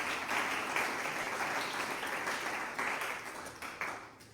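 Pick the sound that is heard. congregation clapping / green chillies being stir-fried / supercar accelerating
congregation clapping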